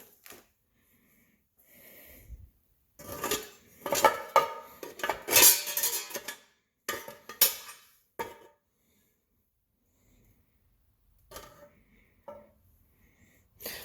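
A new metal oil pan being fitted on an 800 hp turbocharged Nova in a garage, with bursts of metallic clanking and rattling clustered in the middle, then sparse faint taps and scrapes; no one speaks.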